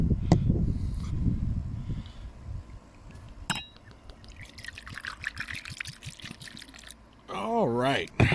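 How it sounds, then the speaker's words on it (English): Scotch poured over ice into a glass, with a trickling pour and clinking of ice near the end, brief and close, following a stretch of man's speech. "nice glass of scotch poured up"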